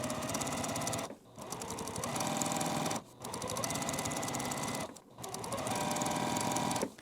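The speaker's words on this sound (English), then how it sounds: "we are going to sew according to our diagram, which is from corner to corner this way on this one" A sewing machine stitches quilt block pieces corner to corner in fast, continuous whirring runs, close and loud. Three brief pauses split the sewing into four bursts, with no talking.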